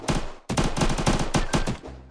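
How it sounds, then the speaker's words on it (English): Rapid gunfire bursts out in the video game Unturned, a dense string of close, loud shots after a brief opening report, with no speech over it. "There's gunshots coming from somewhere."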